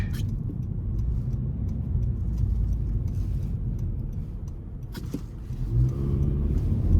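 A small 2.0-litre engine in a 2023 Honda Civic Sport Hatchback accelerates steadily, its low exhaust drone rumbling continuously, with a brief shift in tone midway as the revs climb.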